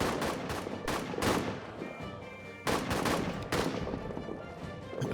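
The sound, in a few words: gunfire in a WW1 trench warfare video game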